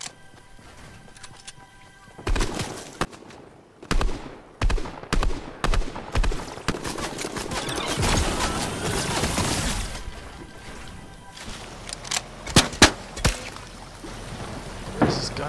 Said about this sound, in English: Where's this gunfire coming from?